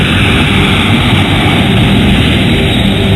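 Loud, steady roar of a C-17 Globemaster military transport aircraft engine, a dense unbroken rumble and hiss holding constant and close throughout, with no voices.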